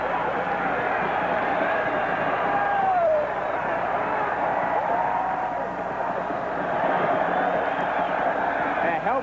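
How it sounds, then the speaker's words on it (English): A packed college football stadium in Norman, Oklahoma roars at kickoff of the 1986 Oklahoma versus UCLA game, a dense, unbroken wash of crowd noise that swells slightly and holds steady throughout. "as that crowd fills with excitement"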